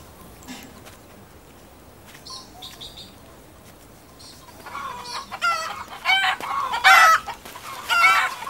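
Chickens clucking and roosters crowing in a Himalayan village, faint at first among quiet rustles, then louder overlapping crows and cackles in the second half.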